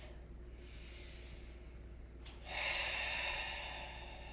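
Slow deep breaths during a yoga-style strength class, soft airy inhales and exhales close to the mic, with a fuller, louder breath swelling in the second half; no talking.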